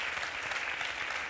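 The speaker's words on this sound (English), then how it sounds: "A round of applause to everybody for your really insightful comments." Audience applause at a European Development Days 2013 panel session on aid and trade: a short, dense burst of steady clapping from a seated conference crowd, with no voices over it.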